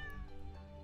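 Cat meowing in the Stardew Valley farm game, a single soft, brief meow against a quiet tonal background.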